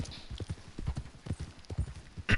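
Horse hooves clip-clop in a steady quick rhythm in the video game Red Dead Redemption 2, close and fairly soft, with no talking.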